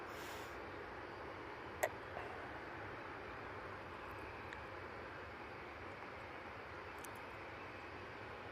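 An EasyJet airliner landing at Manchester Airport gives a steady, distant broadband roar throughout, with a couple of brief clicks near the start.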